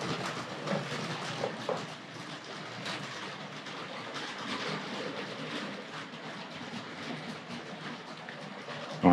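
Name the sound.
model train running over a diamond crossing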